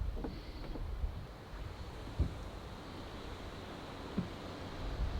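A boat with a 57 horsepower engine pushing through choppy water at about 7 knots, a steady wash of wind and waves with a few dull thumps as the hull meets the swell.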